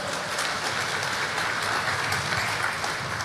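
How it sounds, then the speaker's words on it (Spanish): A church congregation breaking into applause, a dense, even wash of many hands clapping together, loud and continuous for a few seconds. "Dele un fuerte aplauso al Señor si se lo va a dar."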